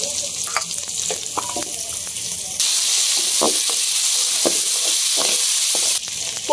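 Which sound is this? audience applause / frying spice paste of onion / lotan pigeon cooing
frying spice paste of onion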